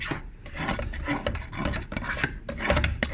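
A spoon scrapes the bottom of a cooking pot holding spiced, sugary tchiaka, a close continuous rasping and rubbing in uneven strokes with no talk.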